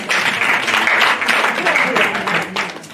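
Church congregation applauding during a couples seminar, loud sustained clapping from many hands filling the room, with a voice speaking over it.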